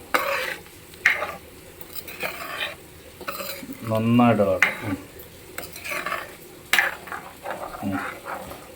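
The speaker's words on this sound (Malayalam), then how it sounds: "മൺചട്ടി ആയതുകൊണ്ട് സൂക്ഷിച്ചിളക്കണം" Goat liver curry stirred in a clay pot, with a spoon scraping and knocking against the pot over a low sizzle, a short louder burst in the middle, and no talking.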